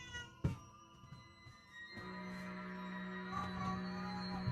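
A cat meows indoors, a sharp close call followed by a longer drawn-out meow with steady harmonic tone, standing alone over a faint room background.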